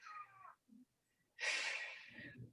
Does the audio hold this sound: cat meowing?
yes